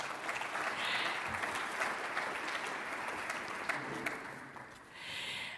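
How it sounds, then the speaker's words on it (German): Steady audience applause fills a conference hall, a dense even wash of clapping lasting several seconds before easing slightly near the end. "Ihr Applaus nochmal, der Applaus für Ministerialdirektor Michael Kleiner, Professorin Katja Schenke-Leyland und für Bernd Rühle"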